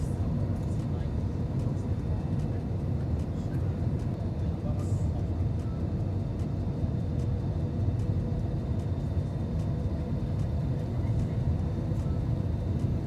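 Constant low cabin drone and rumble inside an airliner on landing approach into Singapore from Bangkok, a steady, even roar lasting throughout with faint clicks over it.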